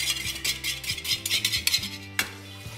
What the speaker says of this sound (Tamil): முட்டை பால் சக்கரை இதை இப்போ பீட் பண்ணும்